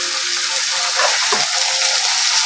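Taro stolons (kochur loti) fry with spices and coconut paste in a pan, giving a steady close hiss of sizzling with soft stirring scrapes, no talk over it.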